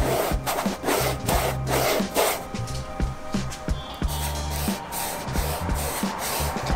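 Primer on a plastic car side skirt, matching cladding on a Subaru WRX, is sanded by hand in close, rhythmic rasping strokes, about a dozen back-and-forth scrubs with brief pauses between them.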